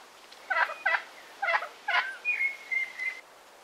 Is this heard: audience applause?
no